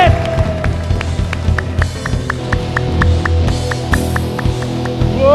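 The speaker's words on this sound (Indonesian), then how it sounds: "Kasih tepuk tangan dulu Bapak Ibu" A TVRI television talk-show studio audience claps in a steady, even rhythm, crisp repeated hand claps over a humming musical background, with voices mixed underneath.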